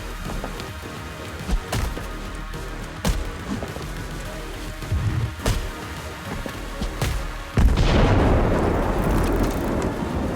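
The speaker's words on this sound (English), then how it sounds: "Flashbang?" A flashbang goes off in the PC game Replaced, a sudden loud burst followed by a sustained hissing rush, after scattered thuds and impacts under steady rain-like noise.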